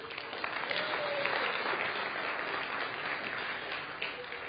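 A studio audience at a televised talk show bursts into sustained applause for a guest performer, a dense, even wash of clapping lasting several seconds.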